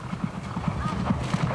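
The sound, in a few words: horses' hooves clip-clopping on a racetrack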